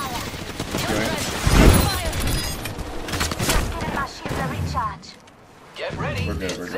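Rapid bursts of gunfire from an Apex Legends match, loud and close, with a heavy boom-like burst near the start and brief lulls between volleys, played under a player's talk.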